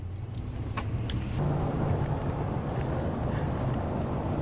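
Road noise from inside a moving car: a steady low rumble that thickens after a moment, with faint light clicks of handling near the microphone.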